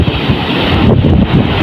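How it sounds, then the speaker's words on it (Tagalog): Strong sea waves and gusting wind during typhoon Basyang, a loud continuous roar of surf churning with heavy wind buffeting the microphone, no voices. "ang lakas po talaga ng alon, sa dagat"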